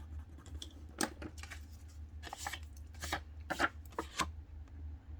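A Tombow eraser rubbing over ink on paper gives quiet scratchy strokes in irregular bursts, close up over a low steady hum with no talk.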